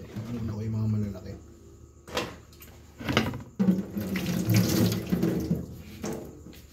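Dishes are washed under a running kitchen tap in bursts of splashing water, with someone talking nearby and pauses between rinses.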